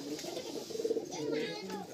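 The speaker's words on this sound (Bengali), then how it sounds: "সব আন্ধ্রা ঘরের পায়রা রয়েছে।" Several Andhra pigeons coo in a loft, with low rolling calls overlapping close up in a busy, continuous bird chorus over a short stretch.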